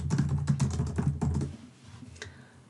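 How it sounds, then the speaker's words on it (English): Typing on a computer keyboard, a rapid close burst of clicking keystrokes that slows and fades to a few scattered taps. "typing to get back to the original post here so I can look at it again."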